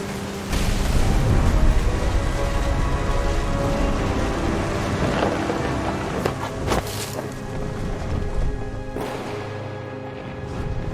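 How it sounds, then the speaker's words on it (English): Heavy rain pouring steadily with rumbles of thunder, one loud crack partway through, dense and close, from the video game What Remains of Edith Finch. "The thunder sounded much too close and full of angry power."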